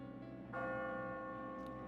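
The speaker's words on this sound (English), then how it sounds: "As you near the top, you will hear a bell ringing." A single bell strike rings out in the Catherine video game, a clear resonant church-like tone that hangs and slowly decays, fairly faint and alone.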